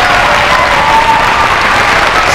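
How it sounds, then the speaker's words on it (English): A school audience at a fitness jump rope assembly cheering and applauding, a steady dense wash of clapping and crowd noise, loud and close throughout. "Give me one more cheer."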